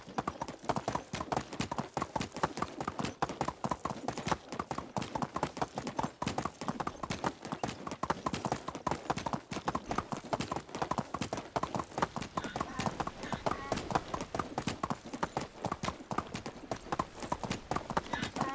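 A horse trots in Medieval Dynasty, its clip-clop hoofbeats close, loud and rhythmic throughout, with faint ambience underneath.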